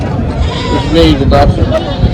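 A goat at a livestock market in Dina gives a few short wavering bleats, near and clear, while someone talks over and around the calls.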